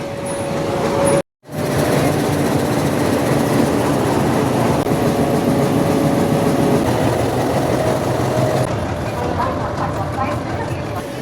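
A steady low rumble and clatter of a moving train, with a brief cutout near the start and faint voices mixed into the noise.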